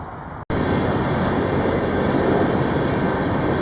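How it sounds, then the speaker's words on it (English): A long oil train rolls past toward a refinery, a loud, continuous, broadband rumble and roar filling the scene from start to finish after a brief cut. "here's the oil train heading down towards the refinery, I'll bet. Just sounded off the whistle."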